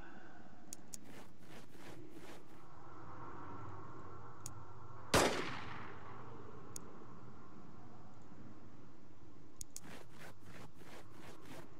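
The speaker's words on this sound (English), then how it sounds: "And of course the pistol misses." A single sharp pistol shot in the Xenonauts video game cracks loudly in the middle of the clip, ringing out briefly over a steady low ambient game hum with a few faint ticks.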